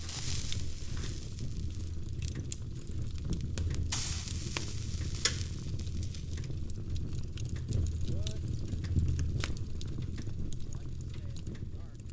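Pork steaks sizzle steadily over burned-down campfire coals at a swamp tent campsite, with crackles and pops and a faint voice now and then.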